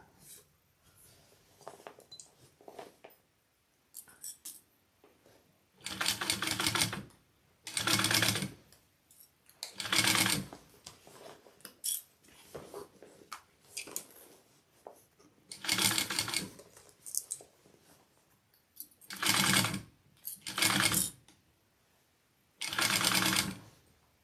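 A sewing machine basting stitches around a small Mini Scout fabric pouch with foam inside, running in repeated short bursts with quiet handling and pauses between them.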